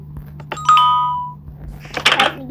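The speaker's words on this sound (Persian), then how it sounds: "به این سادگی زنگ در خونه رو یاد میگیرید" A doorbell built in the Minecraft video game rings with a single clear chime that rings out and fades over about a second, followed by a brief burst of game noise; no voice is heard over it.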